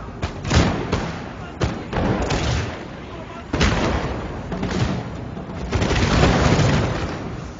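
Heavy cannon and musket barrage in a video game battle, a run of booming thuds and gunfire bursts rolling through the clip, dense and loud, with a voice talking over it.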